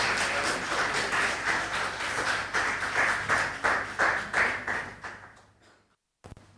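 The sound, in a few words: audience applause welcoming a speaker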